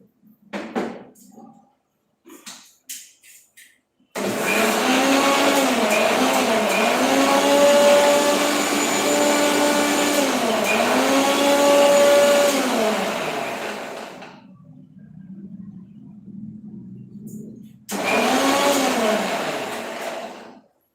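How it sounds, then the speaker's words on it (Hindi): A kitchen mixer grinds coriander and chili for tomato chutney, a loud high whining roar that runs for about ten seconds, cuts out, then starts again briefly. "टमाटर की चटनी पर धनिया मिर्ची पीसा"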